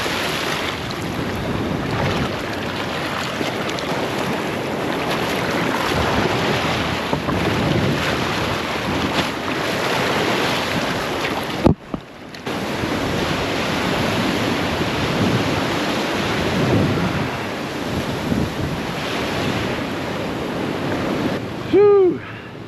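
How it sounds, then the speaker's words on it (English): Ocean waves crash steadily against a shore during a vehicle recovery, with heavy wind buffeting the microphone throughout, a brief dropout midway and a short tonal blip at the end. "Non-stop waves here."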